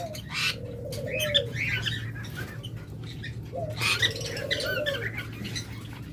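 Caged budgerigars and lovebirds call at a bird sale, a steady mix of chirps, squawks and cooing-like notes with a low constant hum underneath, moderately near and continuous throughout.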